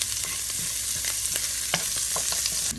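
Onion fries in a pan for chicken fried rice with a loud, steady sizzle. Scattered clicks and taps from stirring punctuate it, and no voice is heard.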